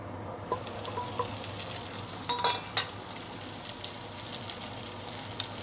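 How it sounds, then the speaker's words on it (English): Vegetables stir-frying in a wok, a steady wet sizzle with occasional sharper crackles and scrapes of stirring, close and fairly quiet, no talk. "let's stir fry the veggie a bit"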